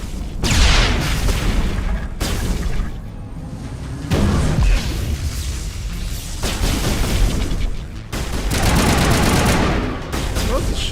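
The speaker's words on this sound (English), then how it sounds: "Okay, I threw the grenades." Gunfire and grenade blasts in the Mass Effect video game, with heavy booms and rattling shots repeating loudly in waves over about eleven seconds, a voice occasionally heard beneath the combat.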